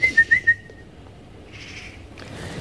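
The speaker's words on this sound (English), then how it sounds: "Where's that bird?" A bird whistles a few short, clear, rising notes close by, followed by a softer warbling tone and quiet room background.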